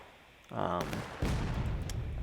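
A booming cannon shot from Civil War–era artillery in the game War of Rights, followed by a second distant blast and rumbling battlefield noise.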